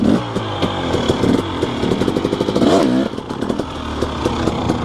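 A KTM 250SX two-stroke dirt bike engine revs hard and choppily on a rocky mountainside, loud and close, with sharp throttle blips, a rising and falling whine near the middle, and rattling, scraping stones underneath.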